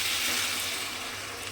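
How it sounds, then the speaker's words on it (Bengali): Water being poured into a pan of rohu fish curry masala cooking in oil, a steady broadband wash of pouring and sizzle at close range, continuous and even throughout with no talk. "ঠিক এই সময় আমি এর মধ্যে দিয়ে দেব জল।"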